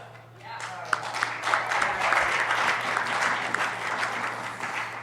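Sustained applause from a seated crowd at a municipal election all-candidate forum, many hands clapping steadily together for several seconds, fairly close and loud.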